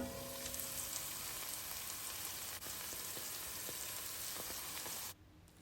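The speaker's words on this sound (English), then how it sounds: "after we finish sauteing this, we're going to leave it for just 2 minutes or three to let the flavors come together" Red herring with pepper sautés in a pan, a quiet, steady crackling sizzle with scattered pops that cuts off sharply near the end, with no voices.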